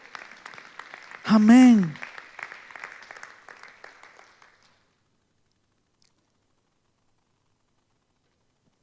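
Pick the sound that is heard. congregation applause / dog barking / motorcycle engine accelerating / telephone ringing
congregation applause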